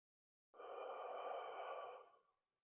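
One long, forceful exhale from a deep-breathing exercise, a steady airy rush of about two seconds that fades out at the end, heard alone in silence.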